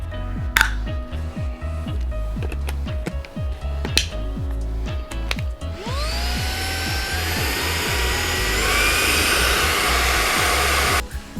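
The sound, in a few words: Hitz Professional 20V cordless vacuum cleaner running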